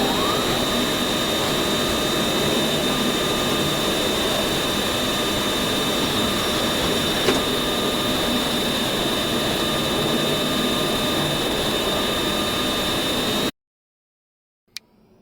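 Boeing 777-300ER jet engines at takeoff power in a flight simulator game, a steady loud roar and hiss held for about thirteen seconds before it cuts out suddenly.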